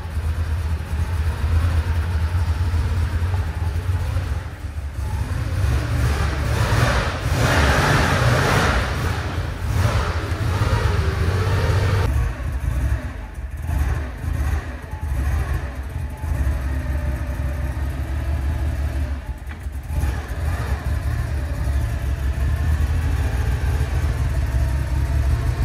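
Air-cooled flat-six of a Porsche 911 Targa G-Model, one with a blue-smoke fault and seized brakes, running as the car drives slowly, a steady low engine drone with mild rises in revs and some rumbling throughout.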